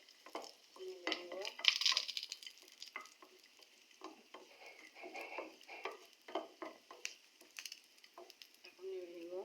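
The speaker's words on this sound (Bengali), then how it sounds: "বাদাম ভেজে নিলে একটা ফ্লেভার আসে।" Peanuts fry in a hot pan while a spatula stirs them, a soft steady sizzle broken by close scraping and rattling strokes, fairly quiet, with a brief voice in the background.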